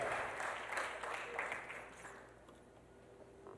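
A church congregation claps together, a steady wash of applause that slowly thins out toward the end, with a few voices mixed in.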